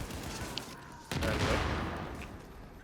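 Gunfire in The Division during a Warrengate Power Plant challenge-mode fight, heard as a dense, steady wash of shots with a louder burst partway through.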